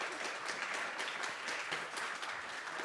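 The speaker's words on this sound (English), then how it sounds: "Let's give him an even bigger round of applause." An audience at a literature festival lecture breaks into dense, sustained applause, many hands clapping evenly at close range for the full stretch with no talking.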